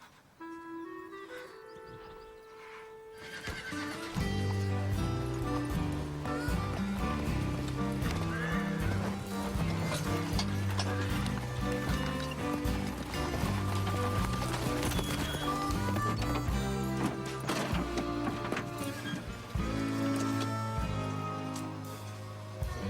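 Horses in harness neigh and whinny while their hooves clip-clop, kept up loudly and steadily for about twenty seconds after a quiet opening, over a dense tonal background.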